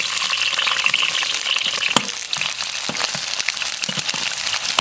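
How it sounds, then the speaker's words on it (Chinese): Scallion, ginger, garlic and onion fry in hot oil in a wok with a loud continuous sizzle and crackle, close up, with occasional stirring clatters throughout. "锅里再倒点油，下入葱姜蒜洋葱，炸个香油。"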